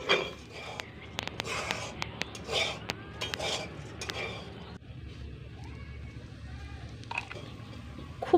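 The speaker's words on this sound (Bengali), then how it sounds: "এইভাবে তেল না দিয়েই বেশ কিছু সময় এটা ভেজে নেব, আর অনবরত এইভাবে নাড়াচাড়া করে দেব যাতে কড়ার গায়ে লেগে না যায়" Jackfruit seeds dry-roasting in a kadai without oil, with a metal spoon repeatedly scraping and clinking against the pan as they are stirred, over a faint rattle of seeds.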